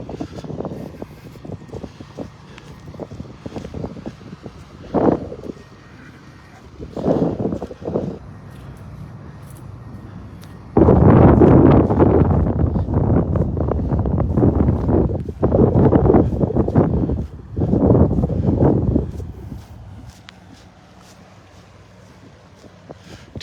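Strong wind gusting against the microphone on a morning beach walk at Delnor-Wiggins, arriving in loud rumbling bursts that swell and fade, with heavier sustained buffeting in the middle stretch.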